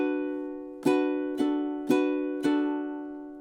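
Ukulele strums four evenly spaced chords of measure 21 of a song, each ringing and decaying before the next, played alone and close.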